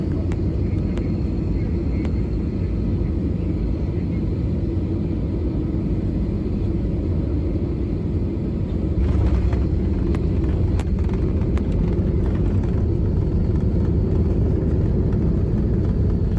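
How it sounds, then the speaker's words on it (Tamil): From inside the cabin, a passenger plane touches down at an airport. A loud, steady rumble of engine and air noise grows rougher partway through, with a few bumps and thuds as the wheels meet the runway. "இதோ டச் டவுன் ஆகுதுங்க."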